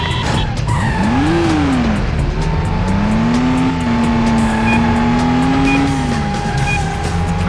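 A car in the PS2 game Stuntman skids through a 180 handbrake turn, a loud, close tire squeal that rises, dips and holds for several seconds over a steady engine roar.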